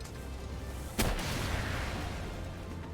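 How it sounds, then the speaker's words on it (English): Rockets firing in the video game Palworld make a sudden loud burst about a second in, over a constant roaring rumble of battle noise. "Because we have the rockets."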